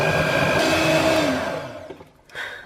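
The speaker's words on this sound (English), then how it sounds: "get the last little bit of mascarpone in, and we'll give it a final whisk through" A mascarpone cream mixture gets a final whisk, most likely with an electric whisk: a steady, close motor whir that runs for over a second, then fades and stops before a short, softer burst.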